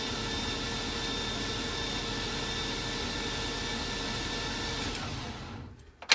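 Starter turns over a 1955 Buick Special with a turbocharged engine in a steady, unbroken whir that carries on evenly at moderate level, then cuts off near the end with a short thump.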